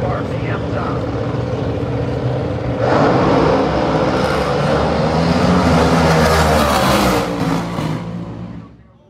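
A nostalgia funny car engine revs loudly at a drag race, a dense continuous roar that swells sharply near the start line before fading at the end, with a commentator talking over it.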